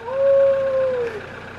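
A hill dog at an alpine snow camp before a sambar hunt gives one long, steady, clear howl that holds a single pitch, then tails off, with no voices.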